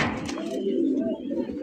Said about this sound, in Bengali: লাস্ট 2400 টাকায় কিন্তু এক জোড়া খুবই সুন্দর এক জোড়া আপনার কিং কবুতর পাইতেছেন।